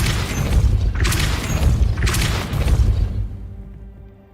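The Depulso repelling spell cast in the game Hogwarts Legacy, a loud, deep booming blast with rushing whooshes and a crash-like burst that repeats, then fades out, with no voice over it.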